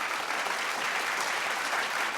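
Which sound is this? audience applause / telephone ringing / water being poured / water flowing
audience applause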